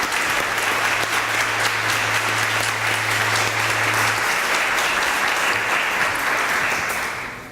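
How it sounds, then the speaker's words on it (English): Sustained audience applause at a youth achievement awards ceremony, a dense, steady roar of clapping from a large crowd for the honorees that continues evenly for several seconds before tapering slightly at the end. "I would just like to give one last final round of applause to all of our honorees and"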